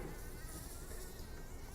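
Loud, continuous buzzing of a bumblebee in a lab cage, a steady close-up drone with no pauses and no voices.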